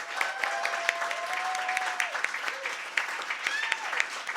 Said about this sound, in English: I love to give a big round of applause.